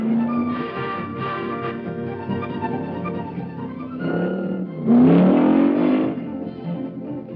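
1965 Plymouth race car with automatic transmission pulling away at the Pikes Peak hill climb, engine droning steadily before a loud rising surge of revs, then easing off, heard at moderate distance.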